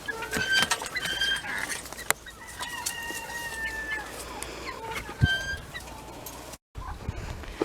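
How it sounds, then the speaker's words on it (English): Meat chickens cluck and chatter in a coop, a rooster crowing briefly among them, with scattered higher bird calls and a short dropout near the end. "all of these in here are meat chickens so far"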